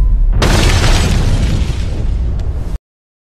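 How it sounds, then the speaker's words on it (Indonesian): A generator explodes, a loud blast bursting suddenly into a roaring, crackling noise that rumbles on for a couple of seconds before cutting off. "terjadi ledakan pada generator"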